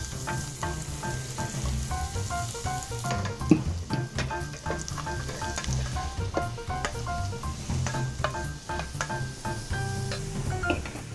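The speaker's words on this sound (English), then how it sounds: "Now, in the same pan, we're gonna add the garlic." Garlic fries in oil in a pan used for Szechuan string beans, making a continuous crackling sizzle with occasional utensil scrapes and taps, fairly close and with no talking.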